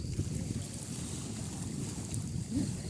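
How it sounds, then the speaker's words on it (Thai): Strong wind buffets the microphone beside the Prasae reservoir in Thailand during a fishing trip, giving a steady, loud roar with low gusty rumbles throughout. "ที่อ่างกระแสนะครับลมแรงมาก"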